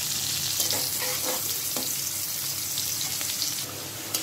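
Masala for a Bengali fish-head muri khanda sizzles and fries in a pan with onions and green chillies, a loud, continuous crackling hiss with faint stirring scrapes.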